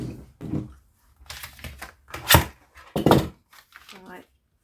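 A small paper trimmer slices through paper while a vintage journal is being made, heard as a few close, crisp cutting and clicking strokes in bursts, with soft talk in between.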